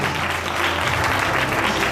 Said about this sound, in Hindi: अपने मददगार लिए तालियां मारो जरा